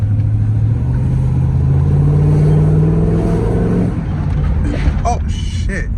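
An LS-swapped Monte Carlo's V8 revs up through its shift points, a loud rising engine note that climbs and holds. It then falls off, and a voice and some lighter noises come in near the end.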